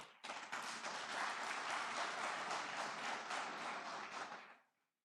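A crowd at a Democracy Day public lecture breaks into sustained applause, many hands clapping together for several seconds before it quickly dies away.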